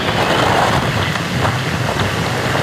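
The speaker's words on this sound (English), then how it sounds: "You can hear that wind just whipping." Strong wind whipping across a surf beach roars as a steady, loud rush of noise, with ocean surf blended underneath.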